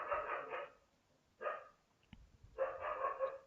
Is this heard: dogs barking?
yes